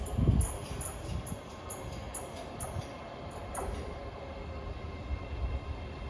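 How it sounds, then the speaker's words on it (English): A four-carriage ScotRail Class 385 electric train pulls into Haymarket station in Edinburgh, a steady low rumble under a run of evenly spaced high ticks and clicks, with no voices. "arriving now is the 1509 ScotRail service from Edinburgh Waverley to Dunblane"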